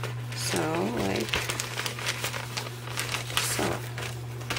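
Sheets of wax paper crinkle and rustle in quick bursts as they are handled close by, with a person talking over much of the sound.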